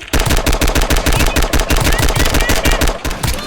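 Rapid automatic gunfire from a gun in the Roblox video game, a dense, loud, evenly spaced burst of shots lasting a few seconds with no pause.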